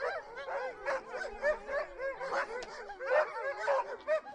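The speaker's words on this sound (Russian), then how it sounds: "Собаки, почуяв приближение охотников, лаяли, выли, и наполняли лес несмолкаемым гомоном." Hunting dogs in the taiga forest bark, yip and whimper in a busy, overlapping chorus of repeated calls at moderate distance, with no voices.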